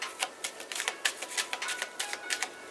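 Tarot cards are shuffled by hand in a run of quick, crisp riffling flutters. The papery bursts come close and fairly loud, with no one speaking over them.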